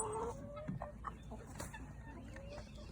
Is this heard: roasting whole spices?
no